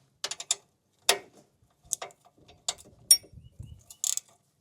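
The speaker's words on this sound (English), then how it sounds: "Does anybody else have an old 1/4-inch ratchet that you should have gotten rid of long ago" An old 1/4-inch socket ratchet clicking in short separate bursts of rapid pawl clicks, close and sharp against near silence, with small handling knocks between them.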